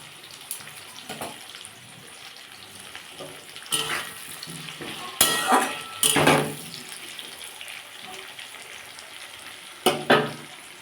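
Potato, onion and tomato fry in a pan as ginger garlic paste goes in; a steady sizzle runs beneath several sharp scrapes and clinks of a spatula stirring, with no talking.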